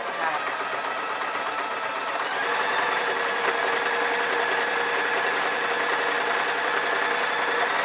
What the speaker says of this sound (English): And then I'm going to sew down there, which is easy enough.